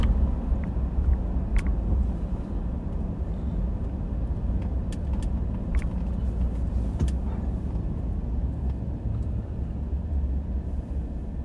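Steady road traffic with cars passing on a calm day, a continuous broad rumble of engines and tires holding at moderate level, punctuated by a few faint, brief clicks and thuds.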